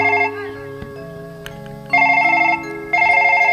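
A phone ringtone plays nearby: a sustained tone first, then two loud bursts of rapid, repeating electronic beeps, each about half a second long, with a short gap between them.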